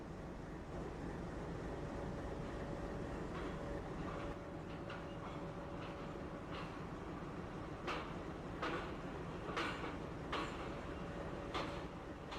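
A passenger train pulls slowly out of Khandwa Junction with a constant low rumble and hum, intermittent wheel clicks and rattles building gradually, heard from inside the coach.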